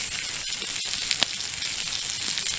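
A steak cooking on a hot rock beside a campfire at a winter wilderness campsite, giving a steady, dense sizzle with a few sharper pops, close and continuous.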